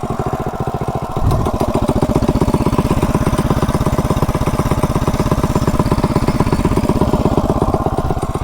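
A modified mini bike engine, its internals and cam unknown, starts up and then runs at a steady fast idle, its rapid even firing pulses loud and close with no talk over them.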